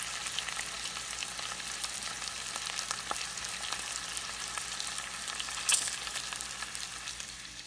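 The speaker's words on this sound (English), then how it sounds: "Oh, listen to that bacon sizzle" Bacon strips sizzling and crackling steadily in a frying pan while cooked for a blueberry cordial bacon cheeseburger, a continuous close hiss with scattered pops and one sharper spatter near the end.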